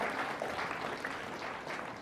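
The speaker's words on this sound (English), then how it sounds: "mesdames et messieurs, une bonne main d'applaudissement pour l'intronisation de Lucien Bergeron" Applause from an audience at a drag racing hall of fame awards gala fills the space as a steady, moderately distant patter of clapping hands, with no voices.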